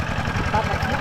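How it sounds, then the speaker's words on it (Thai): A tractor engine chugs close and steady in a pulsing low rumble while riding along a rural road in Laos, with a voice talking over it. "นี่รถอยู่ในรถไถอีกต่างหาก"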